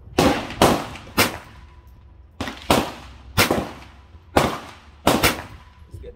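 A Ruger Mk IV Tactical .22 pistol fires seven loud, close shots in an uneven series, each a sharp crack with a short decay.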